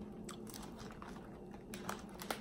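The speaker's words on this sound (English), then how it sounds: "Shouldn't have taken such a big piece." A large piece of crunchy kimchi barbecue pork rind is chewed up close, with soft, repeated bites and crunches that build to a few sharper cracks near the end.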